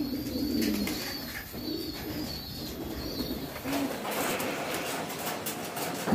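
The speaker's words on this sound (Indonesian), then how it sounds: "Burung yang saya pegang ini yang namanya Marco Polo" Soft, repeated cooing from a tomprang racing pigeon in a breeding loft, several low throaty coos close by with no talking.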